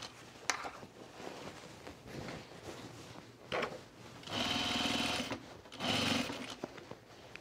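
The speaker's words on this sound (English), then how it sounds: "Just going to do a nice even stitch." A sewing machine stitches a divided fabric basket, with short quiet runs and then two louder sustained bursts of rapid mechanical whirring, alone without talk.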